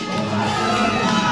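A wrestling crowd at a BWF cruiserweight championship show in the Bronx cheers loudly and steadily for a wrestler's entrance, a dense wash of voices and whoops filling the whole moment.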